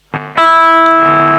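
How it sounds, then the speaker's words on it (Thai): Two plucked notes on a Dean C350F electric guitar through distortion, the second ringing out and sustaining steadily, like a string being checked while tuning. "เดี๋ยวขออนุญาตตั้งสายให้คุณดูก่อนนะครับ อย่างรวดเร็วนะครับ"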